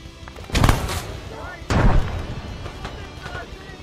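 Two heavy booms of an airsoft grenade during a milsim game, a short thud followed by a louder blast about a second later, with voices shouting around them.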